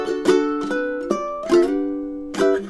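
A ukulele strums a summery chord melody at a brisk tempo: a handful of bright, ringing strums with sustained chords between them, played alone and up close.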